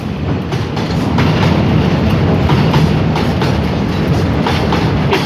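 A special train rumbles steadily past Bang Khen station on the Kaeng Khoi Junction to Bang Sue Junction line, a loud, close, continuous roar with rhythmic wheel clatter throughout.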